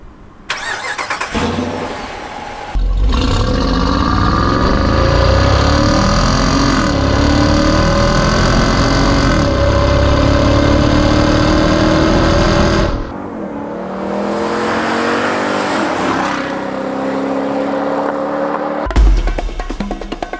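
A powerful Dodge Durango R/T SUV engine fires up and holds a deep, rumbling rev, dips briefly to a lower idle, then surges again before cutting off.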